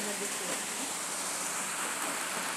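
Steady rain falls in a broad, even hiss with no breaks, close and fairly loud throughout, with no clear voices over it.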